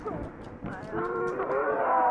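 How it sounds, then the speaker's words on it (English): Within the Call of Duty: Black Ops Cold War game, a goat lets out a long, wavering bleat that swells to a loud, sustained cry, heard alone and close by. "Oh, I hear that goat."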